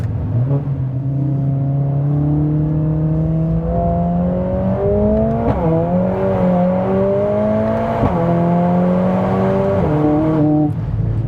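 A 500 bhp Mercedes-AMG A45S laps a wet track with a loud, steady engine drone that climbs in pitch through each gear, broken by several sharp snaps at the gear shifts.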